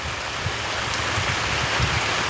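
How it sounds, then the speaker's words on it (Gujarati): Heavy rain pours steadily over village farm fields planted with castor and cotton, a dense, even hiss of falling water that stays constant from start to end with no voices. "વરસાદ વધારે ચાલુ થઈ ગયો છે."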